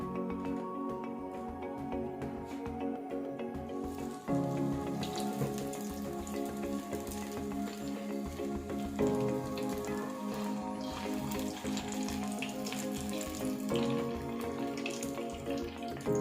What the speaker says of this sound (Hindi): तो इसलिए मीडियम फ्लेम पे हम इसको फ्राई करते हैं।